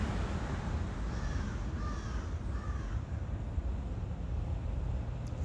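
Three crows caw in a quick sequence, fairly distant, over a steady wash of outdoor background noise.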